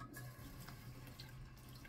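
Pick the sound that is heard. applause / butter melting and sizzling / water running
water running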